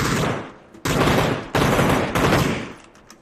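Rapid bursts of automatic gunfire in the battle royale game PUBG, three loud sustained volleys in quick succession with brief gaps between them and no talk.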